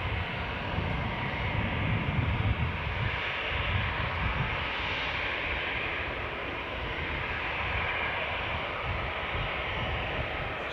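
Aircraft taxiing at Newcastle Airport, a steady broad engine roar and whine holding at a constant level throughout, fairly close, with no talk.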